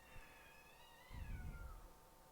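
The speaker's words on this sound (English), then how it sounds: "Got my cats meowing out there." A cat outdoors gives a faint, drawn-out, wavering meow that slides downward, with a low rumble partway through.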